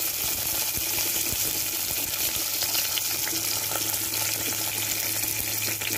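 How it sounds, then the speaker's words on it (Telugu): Crushed garlic frying in hot oil for a tomato egg curry, a dense, even sizzle that holds steady and close for the whole stretch with no talk. "వెల్లుల్లి కొట్టి తీసి పెట్టుకున్న వెల్లుల్లి వేసుకుందాం"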